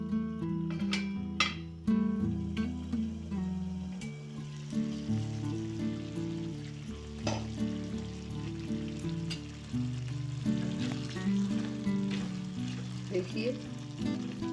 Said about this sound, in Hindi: अब इसे हम ढककर 5 से 10 मिनट पका लेंगे, जिससे टमाटर अच्छे से सॉफ्ट हो जाएंगे।